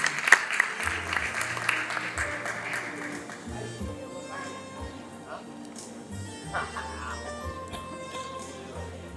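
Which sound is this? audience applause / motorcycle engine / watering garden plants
audience applause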